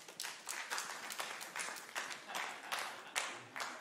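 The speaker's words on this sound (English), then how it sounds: "in this audience, let me feel you clap" Audience at a late-night stand-up comedy show clapping on cue, a faint, distant wash of applause that rises and falls in several uneven bursts.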